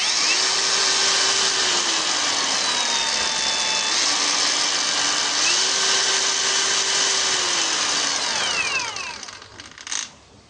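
A cheap BOERTE angle grinder runs at around 8000 rpm with a loud, steady high whine, its pitch shifting between speed settings before spinning down and falling quiet near the end.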